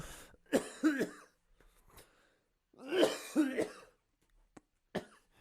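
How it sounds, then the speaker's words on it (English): Several harsh coughs in two clusters, close and fairly loud, separated by quiet pauses with a couple of faint clicks. "How gross is that, coughing on the thing?"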